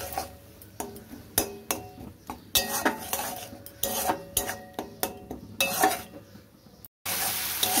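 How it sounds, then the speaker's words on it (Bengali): Spices with Kashmiri chilli powder sautéed in oil in a kadai for a pea and paneer curry, a steady sizzle broken by repeated sharp scrapes and clinks of a spoon against the pan, ending in a brief gap and a louder hiss. "দিয়ে এবার এটাকে ভালো করে কষিয়ে নেব"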